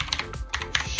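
Fingers typing a message on a computer keyboard, a close, crisp run of about a dozen key clicks in uneven bursts with brief pauses between, no voice over it.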